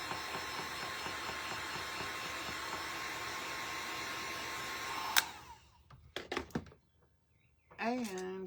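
Hair dryer blowing on a gingerbread plaque, a steady loud rushing whoosh that cuts off midway, followed by a few clicks and handling sounds and then a voice speaking.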